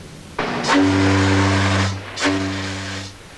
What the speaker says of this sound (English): The whistle of the Lusitania sounds over her grave.